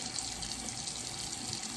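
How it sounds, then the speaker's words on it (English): A faucet runs steadily during handwashing, a continuous close hiss of water into a sink with no speech over it. "I will grab a third napkin to turn off the faucet"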